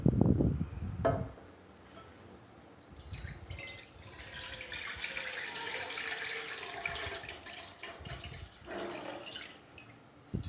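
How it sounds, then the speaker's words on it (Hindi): Milk being poured into a kadhai over a lit flame for custard vermicelli, a continuous liquid stream running for several seconds between clattering knocks of the pan at the start and end. "दूध ऐड करेंगे"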